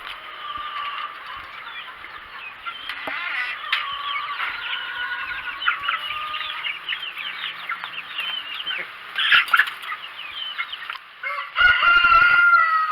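A flock of chickens, including laying hens, clucking and squawking steadily, with a rooster crowing, close and busy, with some rustling and bumping near the end.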